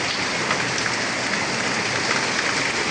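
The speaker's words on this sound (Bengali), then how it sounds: "অনেক জোরে বৃষ্টি, অনেক জোরে।" Heavy rain pours down steadily on a rainy day, a dense, even hiss of drops striking nearby surfaces. It is loud and unbroken, with no talking.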